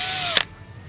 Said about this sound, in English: make sure our drill is in the forward direction